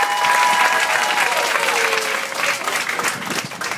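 Audience applause at a community event honouring a redevelopment agency vice chair, a dense, loud burst of clapping from a crowd that holds steady and then slowly thins.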